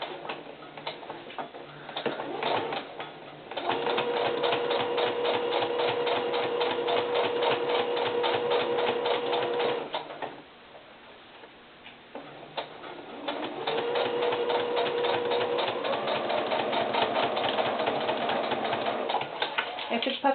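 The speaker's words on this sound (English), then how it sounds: "let me go ahead and make that seam. I'm sewing 1/4 of an inch." A sewing machine sews a quarter-inch seam on the fur lining of a doll boot. Two long runs of rapid, rhythmic stitching are separated by a short pause, close and fairly loud.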